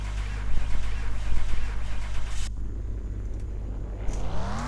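A Lexus starting up in Car Mechanic Simulator, a loud rumbling engine crank and idle that cuts off abruptly midway, followed by a quieter hum and a rising whine near the end.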